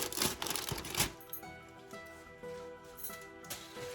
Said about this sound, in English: Remove the cover carefully.